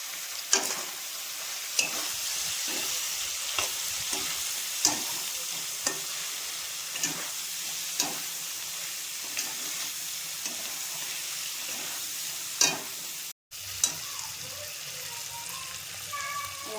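Spices with turmeric for meat ghugni crackle and sizzle steadily in a hot pan, with regular spoon taps against the pan roughly every second and a brief dropout near the end.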